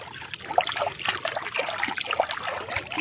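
A hand dipping and swishing in the water at the edge of the Brahmaputra river, with soft, close trickles and small splashes in an irregular rhythm over faint outdoor ambience.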